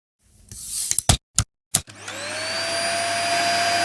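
Dyson small ball upright vacuum cleaner: a few sharp clicks and knocks, then the motor spins up and settles into a loud, steady whine with a constant whooshing hum, heard close and alone.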